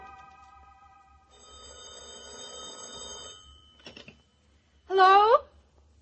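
An old-fashioned telephone bell rings in an old time radio drama, a short burst of ringing near the end after a quieter stretch of faint, muffled background voices and studio sounds.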